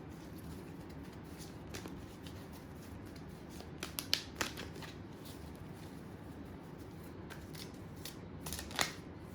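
Tarot cards are shuffled and handled by hand, with soft crisp riffles and small flicking snaps scattered over a faint steady hiss, quiet and close with no talking.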